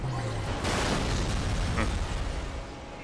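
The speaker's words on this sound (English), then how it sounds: "It's pretty funny how you get the explosion so quickly because so many cars are crashing at the same time." A car crash explosion in the racing game Burnout 3: Takedown, with several cars piling up at once, bursts into a dense, rumbling boom over continuous engine and game noise.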